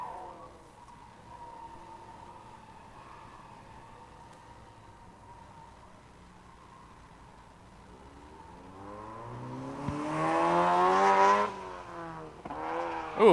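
A Subaru BRZ race car at a track test-and-tune day, its engine droning steadily at a distance before rising loudly as it comes in hot and passes close by, revs climbing and falling.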